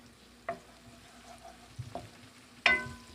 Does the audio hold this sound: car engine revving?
no